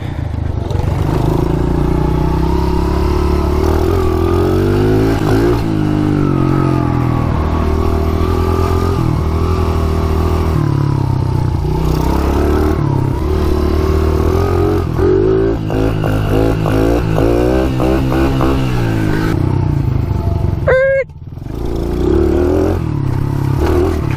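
A KTM mini bike engine runs loud and close for a long stretch, pitch rising and falling with repeated revs and a brief dip near the end, with no talking.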